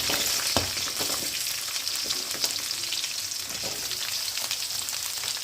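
Green chilies and coconut pieces fry in about two tablespoons of oil for a homestyle coconut chutney, a dense continuous sizzle and crackle close by, with light stirring scrapes and no talking.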